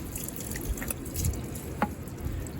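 Diesel fuel drains from the filter center bolt of an old bulldozer, faint trickling and dripping with a few distinct drips and splashes against a quiet background.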